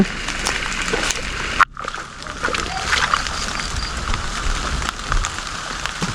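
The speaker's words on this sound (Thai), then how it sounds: "ฝนทำท่าเหมือนลงเม็ดใหญ่กว่าเดิมครับ" Heavy rain falls with big drops beside a rural canal during a fishing outing with worm-baited rods, a dense steady patter and splatter throughout, briefly cut by one sharp dropout partway through.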